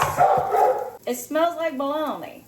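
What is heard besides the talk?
puppy barking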